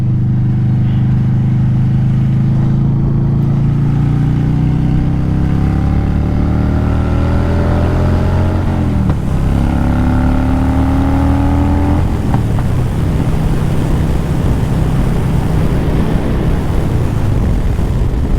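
A 2007 Harley-Davidson Dyna Super Glide Custom FXDC ridden on the road, its engine revving up through the gears with steady loud rumble, rising pitch, a gear change, then climbing again.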